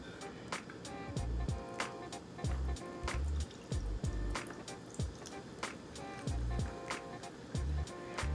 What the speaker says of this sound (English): we're gonna top it off with a bit of our soda water here